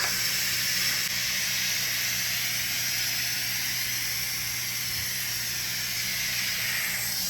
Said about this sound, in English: release the pressure manually